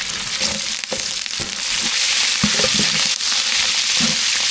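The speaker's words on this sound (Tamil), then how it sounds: "நல்லா சூடாயிடுச்சு கடுகு சேர்த்துக்கலாம் இது கூட ஜீரகம் சேர்த்துக்கலாம் இது கூட கருவேப்பிலையும் சேர்த்துக்கலாம்" In hot oil, mustard seeds, cumin, curry leaves and green chili crackle and sizzle loudly and close, with sharp pops and a few stirring scrapes over a dense hiss.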